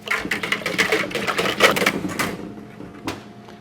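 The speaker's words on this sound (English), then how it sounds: "Quick whisk." A quick whisk through mango water ice mix in a container makes rapid rhythmic clicking and scraping strokes that are close and fairly loud, then stops with one final tap.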